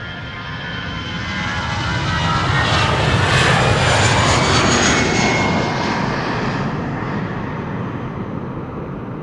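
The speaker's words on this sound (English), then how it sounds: "EasyJet to Manchester. Flight 22162. That's an A320" An EasyJet Airbus A320 jet takes off from Amsterdam Schiphol, a loud, sustained engine roar that swells toward the middle as it passes and then eases slightly, with no voices.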